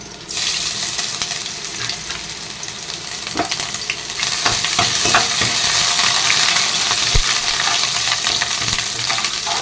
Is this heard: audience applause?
no